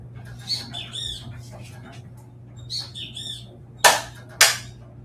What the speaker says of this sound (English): Fucking bird. That bastard is so loud, it's unreal.